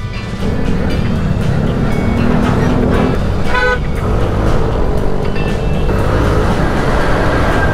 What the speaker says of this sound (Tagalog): Grabe yung mga truck dito.